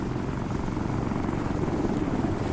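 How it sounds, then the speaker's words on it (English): Heavy rotor chop and low engine rumble from a Ghost Hawk helicopter in the military game Arma 3, close and steady at a constant level as it comes into base. "Now, the Ghost Hawk is going to come here into base,"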